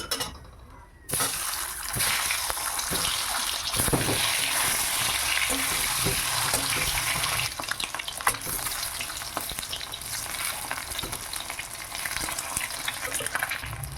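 Eggs fry in hot oil in a pan, a loud, dense crackling sizzle that starts after a short quiet moment and runs on continuously, with spattering bursts throughout.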